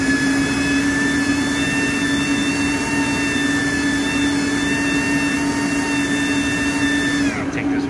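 An AC Infinity inline exhaust fan running at speed level 5 gives a steady, loud whooshing airflow roar with a constant low hum and faint high whine, holding unchanged throughout before a brief shift at the very end.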